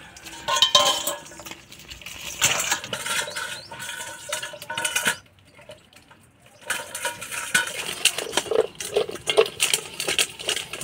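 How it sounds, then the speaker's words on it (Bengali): Small taki fish tumble into a basin and are salted, producing a busy, wet, rattling patter with a short lull midway before the clattering resumes. "টাকি মাছগুলো গামলার মধ্যে ঢেলে দাও"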